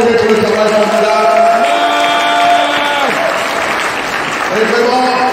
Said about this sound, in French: On applaudit encore Dieu pour le travail formidable.